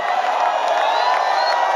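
A crowd at a gospel praise concert in Ibadan cheers and shouts in a loud, sustained roar, with voices rising and falling throughout.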